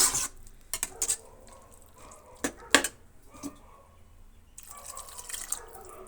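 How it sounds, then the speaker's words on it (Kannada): Water is poured into a cooking pot while a potato sagu curry is made, with soft drips and splashes, a few sharp metallic clinks of utensils, and a broader, steadier rush of liquid near the end. "ಸ್ವಲ್ಪ ನೀರನ್ನು ಸೇರಿಸ್ತಾ ಇದ್ದೀನಿ"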